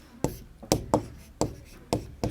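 Pen or pencil writing an answer in a Hindi class exercise, a series of quick, crisp scratching strokes at an uneven rhythm, close and fairly quiet with no talk.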